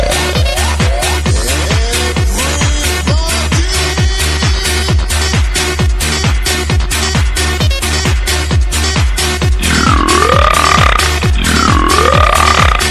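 Burping in a Spanish dance song: loud, close burps fall in a steady rhythm, about two per second, over a thumping beat that lasts throughout.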